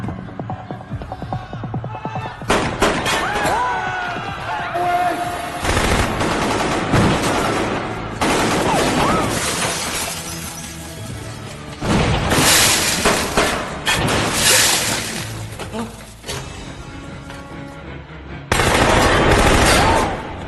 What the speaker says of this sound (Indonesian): Terjadi baku tembak di antara dua kubu